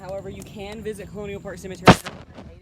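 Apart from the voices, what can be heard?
fireworks exploding in the distance on Saturday night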